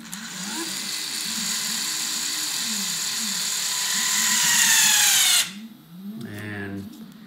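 Tesla electronic parking brake motors whirring steadily and rising in pitch as they clamp after being switched on from a simple on-off switch, then cutting off abruptly, followed by a brief mechanical whir and clunk, close up.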